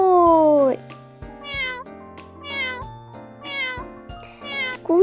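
A cat meows repeatedly, several clear drawn-out cries at close range with short pauses between, accompanied by light tinkling, chiming background music.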